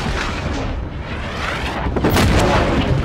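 Anti-aircraft flak fire in Call of Duty Infinite Warfare, heard as dense, continuous rumbling booms and blasts that swell louder near the end, with no talk.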